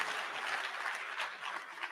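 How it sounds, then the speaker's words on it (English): An audience at a physicians' and surgeons' college fellowship induction claps continuously in a dense, even patter of applause that swells and dips slightly. "Please keep clapping."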